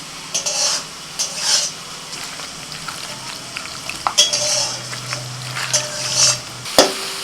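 Raw meat being mixed by hand with turmeric, cumin powder, coriander powder, salt and mustard oil, with moist squelching and stirring bursts at an irregular pace, close by, and a frying sizzle underneath.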